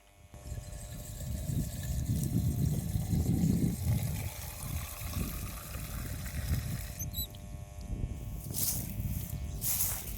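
Water gushes steadily from a newly fitted filter on an electric motor pump, a close continuous rushing and trickling flow, with a few clicks and splashes toward the end.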